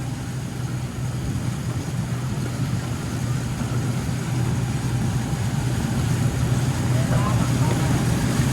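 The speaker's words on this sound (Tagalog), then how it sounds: "nakasakay po tayo sa ano, sa traktora" A hand tractor (kuliglig) engine running while riding through deep floodwater, a steady low rumbling drone that stays loud and close throughout with no pauses.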